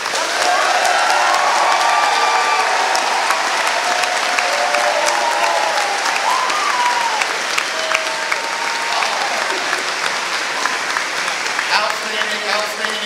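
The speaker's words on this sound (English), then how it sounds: "big round of applause." Large crowd at a high school graduation ceremony applauds steadily for graduates, a dense sustained wash of clapping with some cheering, loud and continuous throughout.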